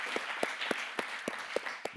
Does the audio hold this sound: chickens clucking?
no